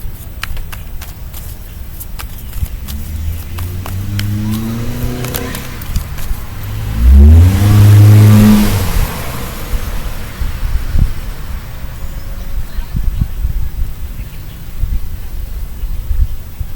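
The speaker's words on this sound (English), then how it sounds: "there was a car that appears to be accelerating beyond 25" A passing car on a residential road swells up and away with a rising engine note, loud for a couple of seconds mid-clip over steady wind buffeting the microphone.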